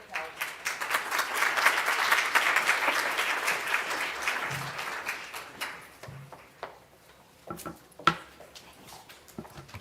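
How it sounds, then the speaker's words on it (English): Audience applause at a tobacco control symposium fills the first half, dense and steady, then fades into a quieter room with scattered knocks and shuffling. "we are going to thank Coral and Marita with this applause."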